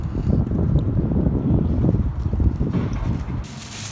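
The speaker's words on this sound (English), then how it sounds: "It's so windy out here." Gusty wind buffets the microphone with a steady low rumble throughout, loud and close, with no voices.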